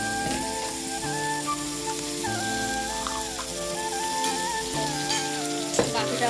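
Ginger, garlic and cumin paste sautéing in hot oil in a home kitchen, a steady broad sizzle with light scraping and stirring, continuous and close over soft background music.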